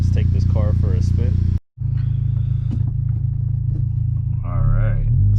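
Heard from inside the cabin, a Honda Civic Type-R with an Invidia R400 exhaust drones at a low steady pitch as it accelerates, cut by a brief gap and a gear change, while someone talks over it.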